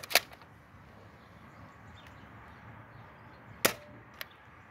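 Hard-tip darts fired from a dart blaster at a target, with a sharp snap near the start and another crisp shot later followed by a lighter click, over a quiet room background.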